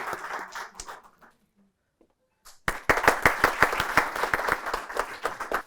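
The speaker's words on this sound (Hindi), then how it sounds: "जोरदार तालियां" After a near-silent pause, a crowd at a team victory celebration bursts into loud, sustained applause with dense, rapid clapping that carries on steadily.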